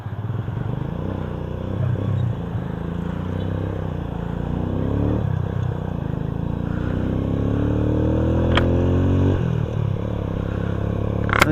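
A motorcycle carrying a passenger, sitting low under the extra weight, drones close by with a steady engine note that climbs and dips in pitch as it rides on, with light rattles and scrapes along the way.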